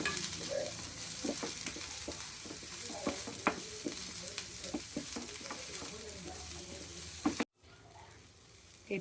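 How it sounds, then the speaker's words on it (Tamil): Pistachios, coconut and coriander leaves are sautéed in a pan for pistachio chutney, giving a soft, steady sizzle with frequent light stirring scrapes, then cutting off abruptly near the end. "பிஸ்தா சேர்த்து வதக்கியதும் தேங்காய், கொத்தமல்லி தழை போட்டு லைட்டாக வதக்கினா போதும்"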